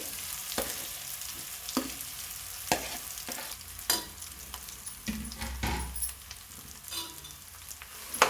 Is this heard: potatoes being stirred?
yes